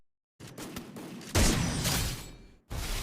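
Rapid bursts of gunfire from a first-person shooting video game, loud and close, with a short gap before a final volley, no talking.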